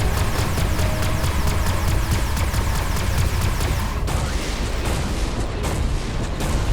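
Energy weapon fire from a purple-tier gun in the space shooter Everspace 2, a dense, continuous stream of rapid repeating shots over a steady roar of engine and battle noise, loud throughout with no talk.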